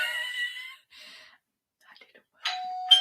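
A ding-dong doorbell sound effect plays as a show bell on a reseller livestream, a clear two-tone chime near the end after earlier tonal effects, with soft speech and breathing between.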